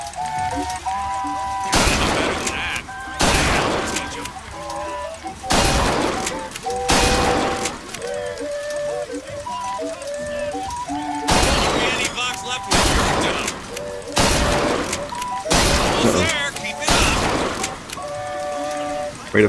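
Gunfire at a shooting gallery in Bioshock Infinite cracks out in repeated loud single shots at irregular intervals, with a tonal game jingle playing beneath.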